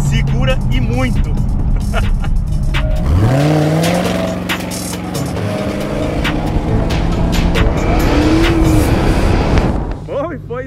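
Dodge Challenger Hellcat police show car of Brazil's Federal Police in Mato Grosso do Sul revs hard and accelerates, its engine note sweeping upward in loud rising waves after a brief voice at the start, then surging again before easing off.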